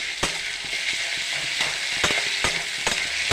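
Green chili, cumin and ginger paste sizzles steadily in oil in a pan, with a few distinct scraping strokes of a spatula stirring it; close, even frying hiss with no voices.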